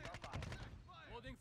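Rapid bursts of gunfire from Call of Duty MW3 Hardpoint on the Rio map crack close and loud across the opening second, then a clipped in-game voice callout follows over fading shots.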